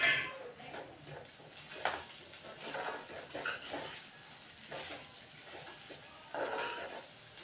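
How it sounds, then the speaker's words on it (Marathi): Poha with turmeric and peanuts being stirred and sautéed in a pan, giving light scraping clinks of a spoon against metal and a soft sizzle, close and quiet throughout. "मस्त असं परतवून घेऊ।"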